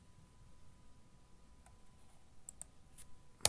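A faint, isolated mouse click while connecting to a newly created Kubernetes cluster, with a few soft ticks before it in an otherwise quiet room.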